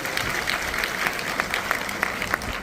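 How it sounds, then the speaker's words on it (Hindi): Audience applause in welcome at a spiritual gathering honouring a revered elder sister, a steady wash of clapping running throughout with a few brief voices over it. "इसलिए जोरदार ताली से आपका स्वागत करेंगे।"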